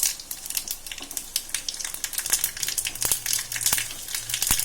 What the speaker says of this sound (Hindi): ये मैंने थोड़ा सा जीरा डाला,